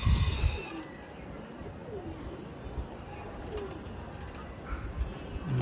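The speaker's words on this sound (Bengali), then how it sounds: "এই যে আমাদের কবুতর এক এক করে ঢুকতেছে" Pigeons returning to their cage in Old Dhaka, soft cooing under a busy background with a burst of wing flapping at the start and faint rustling throughout.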